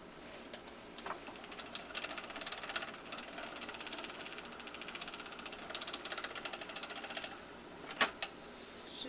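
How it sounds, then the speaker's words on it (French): A spinning wheel twists yarn under too much tension, which pulls and breaks the thread. Its steady, rhythmic mechanical clatter runs throughout, close by, with one sharper click near the end and no speech. "Un peu trop de tension dans le rouet, ça tire et ça casse le fil à la place de le tordre"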